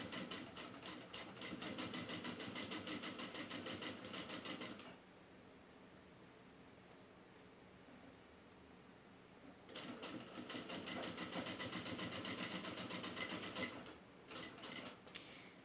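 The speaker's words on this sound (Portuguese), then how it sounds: "Dou retrocesso e venho costurando." Sewing machine stitching fabric for a soft bear vest, a rapid close mechanical clatter in two long runs separated by a quieter pause of several seconds, with no talking.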